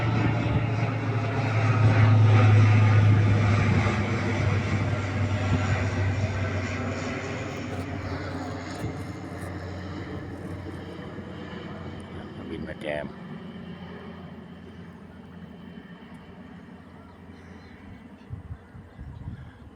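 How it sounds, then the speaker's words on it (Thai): A propeller airplane flying overhead on an evening outdoors, a broad droning engine roar that swells loudest early on and slowly fades into the distance. "ตอนนี้ก็มีเครื่องบินมาแจมด้วยครับ เครื่องบินมาแจม อ่า นี่กำลังบินอยู่"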